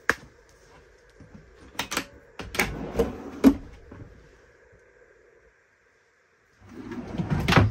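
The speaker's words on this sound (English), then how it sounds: "Nice big slide out pantry." Slide-out pantry drawer in a 2023 Roadtrek Chase Class B camper van, giving a few close clicks and knocks, then a rolling rumble as it glides open.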